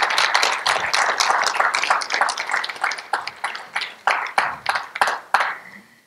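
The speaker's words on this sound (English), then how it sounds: "Give him a hand clap, too." A church congregation at a Sunday service applauding, many hands clapping in a dense burst that thins into scattered, separate claps before fading out, close and lively with no voices.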